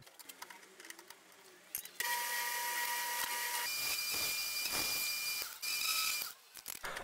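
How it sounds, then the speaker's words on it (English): Lathe turning a brass chisel mallet head while a tool chamfers its edge: a steady bright hissing cut with whining tonal lines, starting abruptly after quiet handling and ending in short scraping bursts. "I'll use the edge of the tool to chamfer the edge of the mallet just to give it a nice eased edge on the corners"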